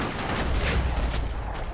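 Slowed, bullet-time gunfire in the video game Max Payne 3, a dense burst of heavy muffled shots rolling together with deep low rumble, loud and continuous across the moment.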